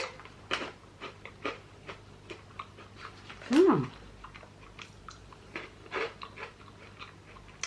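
Crunchy milk-chocolate-coated cappuccino balls are bitten and chewed close up, with a series of sharp crunches at irregular intervals and a louder bite near the middle, over quiet background.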